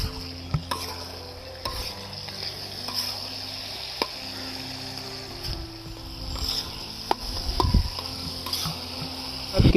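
Green chillies, cut into thick pieces, frying in a pan for tawa kaleji, a steady sizzle with scraping spoon strokes and occasional knocks against the pan, close up and without talk.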